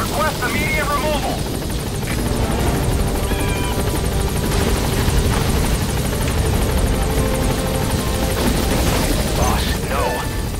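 Helicopter hovering in Metal Gear Solid V, a steady loud rotor drone running throughout, with game sound effects and voices over it.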